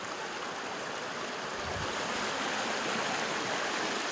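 Broad, steady rush of river water flowing on the Umtru river in Meghalaya, heard from midstream as a continuous close wash with no voices.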